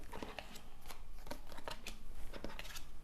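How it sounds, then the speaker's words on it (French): Tarot cards being turned over one after another on a table during a love reading, a run of short, close papery flips and slaps with brief pauses, alone without talk. "Allez, on retourne toutes les cartes."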